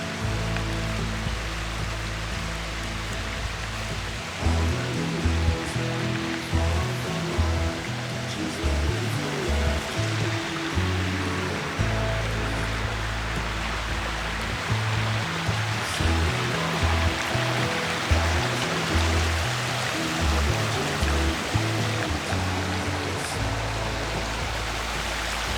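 Water flowing in an old river near Pendle Hill, a steady close rushing and splashing with rhythmic low thumps underneath, continuing throughout without talk.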